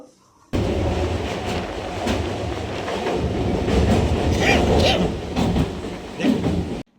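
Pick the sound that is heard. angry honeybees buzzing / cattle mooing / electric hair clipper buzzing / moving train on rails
moving train on rails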